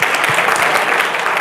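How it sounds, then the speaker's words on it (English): A workshop audience claps in a dense, steady round of applause, loud and continuous throughout the short burst. "big round of applause for Ed."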